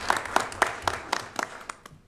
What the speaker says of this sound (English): So I want to give them a round of applause for all that they did.